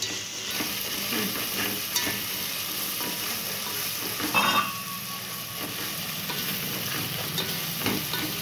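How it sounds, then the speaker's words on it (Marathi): Chopped tomato with garlic and ginger sautéing in a pan for dal khichdi, a steady sizzle with spoon stirring and scraping throughout, a louder burst of frying near the middle, no voices. "आता यामध्ये आपण बारीक कट केलेला टोमॅटो घालून घ्यायचा आहे आणि व्यवस्थित परतवून घ्यायचं आहे"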